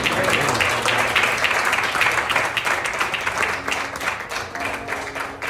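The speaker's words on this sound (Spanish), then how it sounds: "¿Cuánto les damos un aplauso al Señor?" Congregation applauding in a church, a steady wash of clapping from many hands at moderate loudness, with a voice faintly audible within the applause.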